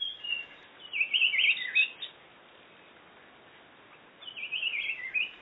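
A Blue Pitta (Hydrornis cyaneus) at a forest hide in Kaeng Krachan, Thailand, gives two clear whistled calls separated by a quiet pause, heard fairly close over a soft background hiss.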